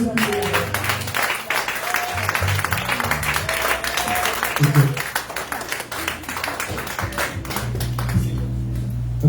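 A church congregation at a Sunday service in Baltimore applauds and cheers for Jesus Christ, steady clapping and crowd noise spread through the room, with a voice speaking over it.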